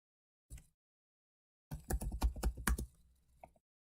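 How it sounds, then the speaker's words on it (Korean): A computer keyboard in a CAD drafting session, one isolated keypress and then a quick burst of several clicky keystrokes ending in the Enter key, close and clear in an otherwise silent room. "또 엔터 눌러서 이전 명령 활성화"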